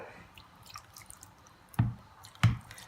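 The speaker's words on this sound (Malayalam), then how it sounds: "അപ്പോൾ നമുക്ക് കുറച്ച് വെള്ളം ചേർത്ത് കൊടുക്കാം" About a quarter cup of water, left from rinsing the mixer, goes into a fish mixture for anchovy meen peera; two distinct wet splashes land about half a second apart against an otherwise quiet background.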